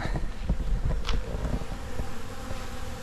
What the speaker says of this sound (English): I'd say the bees are hungry.